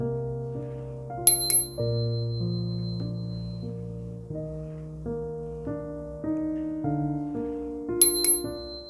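A small bell rings twice, clear bright dings several seconds apart, over a soft sustained keyboard melody playing throughout.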